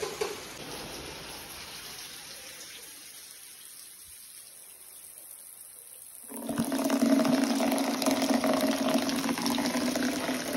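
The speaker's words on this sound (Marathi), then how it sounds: "बाहेर मस्त पाऊस पडतोय" Heavy rain falling outside: a faint, hissing wash at first, then a sudden, much louder, steady rush of falling water that continues to the end.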